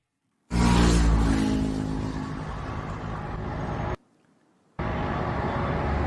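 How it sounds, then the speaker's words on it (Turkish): Heavy road traffic of cars fleeing Tehran, a loud continuous roar of engines and tires passing nearby that cuts out abruptly for a moment before resuming. "Trafik gerçekten çılgınca."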